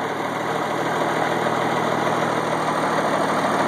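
A 1986 AM General M35A2C military truck idles after a cold start, its engine holding a steady, even rumble with a faint whine on top, close and constant throughout, with no voices.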